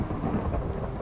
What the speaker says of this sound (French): C'est la première fois que je joue du tonnerre! Trop stylé!